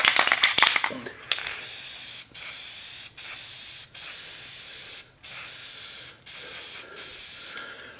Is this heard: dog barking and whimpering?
no